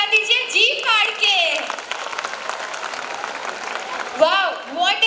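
A crowd applauds at a New Year's Eve carnival show, a steady wash of clapping heard underneath an announcer's animated voice, which talks over it for most of the moment.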